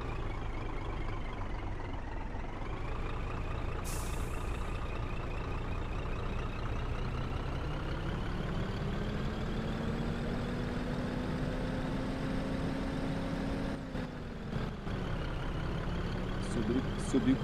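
Scania 143H truck hauling a bitrem dump trailer up a mountain road in a driving video game, its engine droning steadily with pitch rising and shifting through gears, with brief talk over it.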